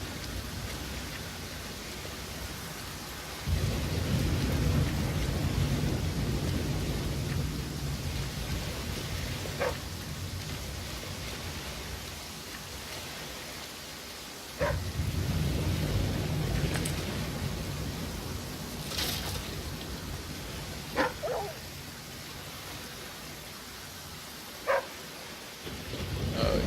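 Steady rain and rumbling thunder in the survival game The Flame in the Flood, with loud bursts of downpour swelling in waves and a few sharp thunder cracks over a constant hiss.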